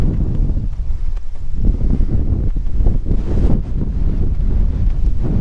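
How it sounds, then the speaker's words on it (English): Strong outdoor wind buffets the microphone with a continuous low roaring rumble and gusty surges on the grounds of an old school site, with no talk. "Hopefully this wind don't mess up everything."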